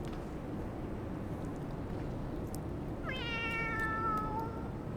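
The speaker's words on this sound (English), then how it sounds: "There's the cat." A cat meows once in the video game Final Fantasy 14, a clear drawn-out call rising out of a steady low ambient rumble with no talking.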